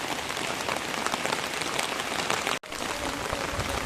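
Steady, dense rainfall close by, a continuous loud hiss of drops with one momentary break near the end.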